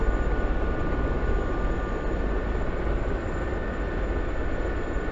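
A Gazelle helicopter flying in the DCS combat flight simulator, a steady loud rotor and turbine drone with a constant whine, unbroken throughout.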